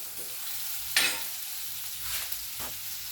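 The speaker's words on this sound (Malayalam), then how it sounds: "വെളുത്തുള്ളിയും ചതച്ചത് ഇട്ട് കൊടുക്കാം. ഉള്ളി അരിഞ്ഞു വെച്ചത് ഇട്ട് കൊടുക്കാം. നമുക്കതൊന്ന് ഇളക്കി കൊടുക്കാം." Crushed garlic and chopped onion fry in a hot pan, making a steady sizzle while a spoon stirs them, with one sharp scrape early and softer stirring sounds after.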